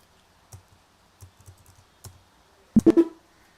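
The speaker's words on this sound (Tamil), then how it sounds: "1300 டைப் பண்ணிவிட்டு கொடுத்துக்கலாம்." Keys clack on a computer keyboard in scattered, light taps at first, then a tighter cluster of louder, sharper strikes near the end, close and alone with no voice over them.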